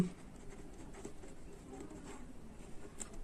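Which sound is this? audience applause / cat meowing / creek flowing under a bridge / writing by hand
writing by hand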